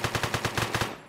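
Rapid automatic gunfire rattles in the heist video game One-Armed Robber, a fast even burst of about nine shots at moderate loudness that cuts off abruptly.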